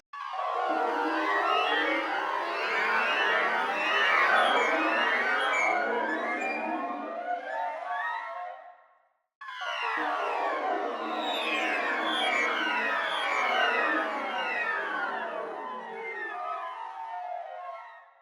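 Orchestral Shepard tones from the 8Dio Orchestral Shepards library played as glissandos form a dense, sweeping, endlessly gliding wash in two long loud swells separated by a brief silence.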